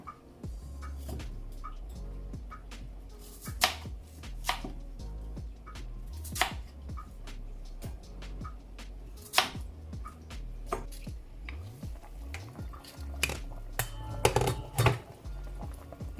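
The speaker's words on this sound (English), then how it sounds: "let's cut up the yam." A knife chops yellow yam on a cutting board. Close, sharp thuds and clicks come in irregular bursts, with some quieter handling noise between cuts.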